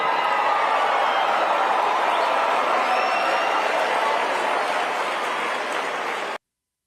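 Large audience at a political event, a dense steady wash of crowd noise with clapping and murmuring throughout, any booing buried and indistinct, cutting off abruptly near the end.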